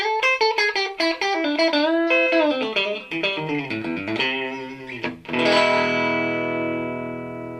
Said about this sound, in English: Drops the level of distortion down a little bit, gives me a little more clarity.